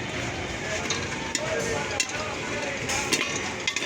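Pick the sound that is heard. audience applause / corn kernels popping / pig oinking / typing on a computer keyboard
corn kernels popping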